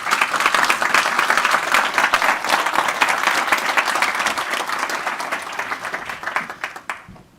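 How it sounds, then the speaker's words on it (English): An audience at a conference panel on raw materials and automotive sustainability breaks into steady, dense applause that carries on for several seconds, then thins and fades away at the end. "Can we give them a round of applause, please?"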